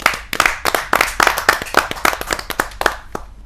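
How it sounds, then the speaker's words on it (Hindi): Close, uneven clapping from a small audience at a Hindi kavi sammelan poetry gathering, welcoming the poet Veena Upadhyay, with sharp individual claps in a loose rhythm that thins out toward the end. "आप जोरदार तालियों से उनका भी अभिनंदन"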